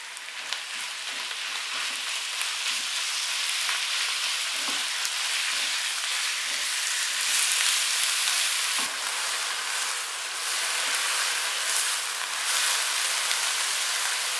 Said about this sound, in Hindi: अब इसमें कीमा ऐड करेंगे और 2 से 3 मिनट इसको भूनेंगे